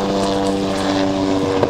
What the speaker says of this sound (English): Here comes the emergency medical evacuation helicopter.